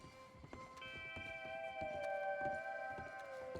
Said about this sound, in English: I got a new horsey.